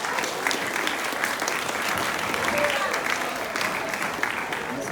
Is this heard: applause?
yes